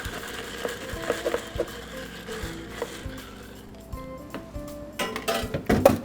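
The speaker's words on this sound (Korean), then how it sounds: "민트의 시원한 풍미가 혼합이 되도록 충분히 섞어줍니다." Light glassy clinks and scrapes of ice as a mint cocktail made with Jeju ingredients is stirred in a glass, scattered and fairly faint at first, then busier and louder near the end, with no one speaking.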